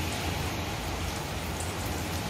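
Steady heavy rain falls in Kuwait on an afternoon at a work site, an unbroken close wash of drops hissing on wet ground with no other sounds.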